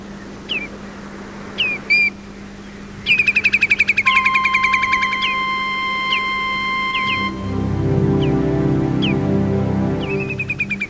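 Birds sing on Hrísey island, with close, sharp repeated chirps and a rapid trilled series, plus a long steady whistle-like tone, set over a low hum and later a broad rumbling background.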